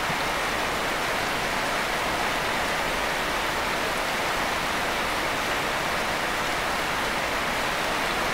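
Steady rain pouring down, a dense, even hiss of drops on surfaces that stays constant and loud from start to finish with no other sounds.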